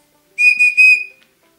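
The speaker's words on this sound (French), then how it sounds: "la bague sifflet, qui nous permet donc de l'activer, de le faire chanter" A shrill whistle ring for a DigiBirds robot toy blows three quick connected toots, each bright and piercing, then stops into silence.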